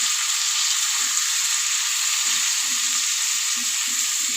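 Tender bottle gourd fries lightly with turmeric in hot oil, giving a dense, constant sizzle with soft stirring clatter underneath, close and loud.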